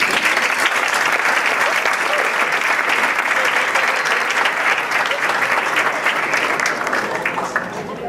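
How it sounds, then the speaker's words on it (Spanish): Sustained audience applause at an agricultural development forum in Puerto Rico, dense steady clapping from a crowd that holds for about eight seconds before easing slightly at the end, with no talk over it. "Vamos a darle un aplauso acá."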